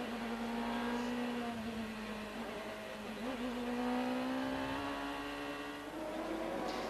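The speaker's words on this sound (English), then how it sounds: "Gilles de Ferrand leads the 27 cars around then on the warm-up lap." A pack of 27 CART race cars drones around Belle Isle street circuit in Detroit on a 1997 warm-up lap, a steady high engine whine holding loud and continuous with slight rises and dips in pitch.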